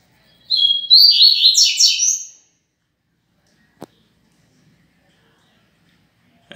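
A caged double-collared seedeater (coleiro) songbird kept loose in a room sings one bright, high chirping phrase of about two seconds, then falls silent apart from a single faint click.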